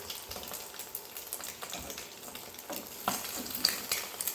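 An egg frying in butter in a pan gives a steady, faint crackling sizzle with scattered pops, close up and without talk.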